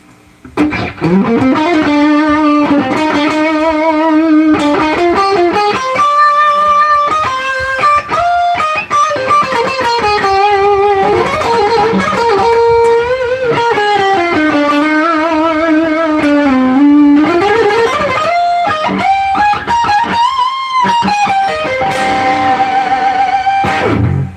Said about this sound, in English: So that's the overdrive. That's with the more drive on it.